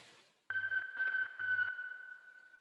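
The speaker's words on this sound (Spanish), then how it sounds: "Estos son unas grabaciones de un satélite, de un satélite Soyuz" A Soyuz satellite signal recording: a steady high tone with pulsing, beeping bursts that fade into a single sustained tone, faint and clean.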